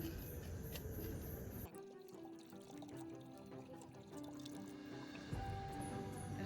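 Boiled taro pieces are lifted and rinsed in cold water, and water trickles and drips off them in a soft, close, irregular patter, with a slightly fuller pour at the start and end.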